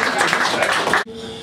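Audience applause for a band at a concert in Garding, loud and dense for about a second before cutting off abruptly into quieter room sound, with a voice over it.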